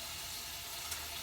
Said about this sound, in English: so you can hear it sizzling right now.